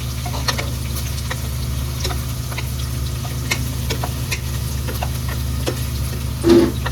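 Onions sizzle softly in a pan for a mushroom biryani, a steady frying hiss over a low hum, with occasional light ticks from stirring and a brief louder knock near the end.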